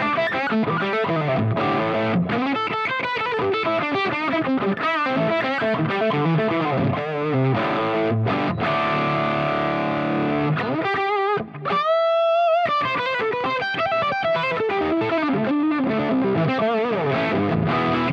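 Heavily distorted electric guitar through a Marshall YJM100 Yngwie Malmsteen signature tube amp, played loud and continuous, thick crunchy riffs with sustained chords and a brief dropout midway.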